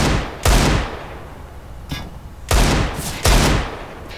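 Gunfire in the video game CS:GO, likely an AK rifle, with three loud broadband shot bursts and a fainter crack in between over a steady background hum.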